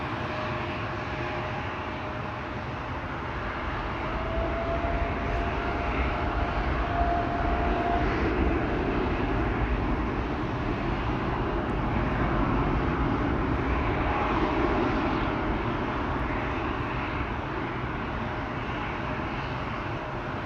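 A KLM airliner on approach to Amsterdam Schiphol Airport, flight 597, drones with a continuous engine rumble that swells slightly in the middle and then eases off, with no voices.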